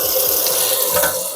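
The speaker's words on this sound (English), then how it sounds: "we're going to take this to the sink, give it a good scrub with hot water" Hot water running from a kitchen tap into a sink to scrub a cast iron pan, a brief steady splashing hiss of flowing water, close and fairly loud.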